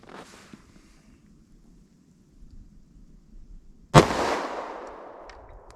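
A .45 ACP 180-grain round fires from a compact 3.3-inch Shield pistol, one sharp, loud shot that rings out and decays after a quiet stretch of faint shuffling.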